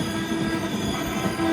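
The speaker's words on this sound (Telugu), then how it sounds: "ఇక్కడ కావలి నుంచి కూడా మన ట్రైన్ అయితే స్టార్ట్ అయిపోయింది." Jan Shatabdi Express pulling out of Kavali station, a steady low rumble of rolling stock with a faint sustained wheel hum, fairly loud and continuous throughout, no voices.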